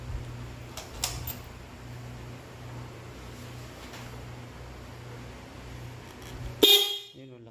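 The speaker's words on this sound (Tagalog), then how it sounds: "Lakas ng busina niya." A homemade horn fitted to a motorcycle blares a loud, steady honk over a low engine hum, then cuts off with a sharp burst near the end.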